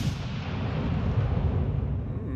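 Battleship main guns firing in World of Warships Legends, a deep, rumbling boom that rolls on and fades slowly, loud and close with no talk over it.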